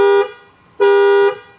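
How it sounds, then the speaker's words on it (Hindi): Two loud honks from the dual-pitch horn of a Mahindra Thar SUV, a short blast then a longer one, bright and brassy, close up with nothing else heard. "तो डुअल पिच हॉर्न दिया गया"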